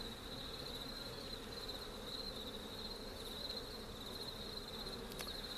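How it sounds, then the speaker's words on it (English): Honey bees cluster on a beehive lid, a continuous soft buzzing drone with a steady high whine, faint and unbroken, without any talking. "Same thing if there's a large group of bees on the lid like this."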